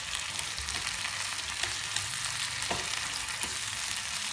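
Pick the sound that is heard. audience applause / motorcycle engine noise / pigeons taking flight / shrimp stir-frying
shrimp stir-frying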